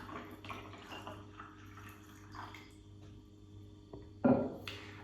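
Coffee pours and trickles over ice, with faint crackling and a sharper splash near the end, quiet and close.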